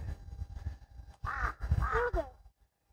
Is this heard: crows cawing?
yes